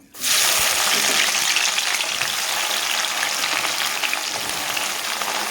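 Chopped onions frying in oil in a wok give a loud, dense, steady sizzle that bursts in abruptly as they hit the hot oil and crackles continuously without a break.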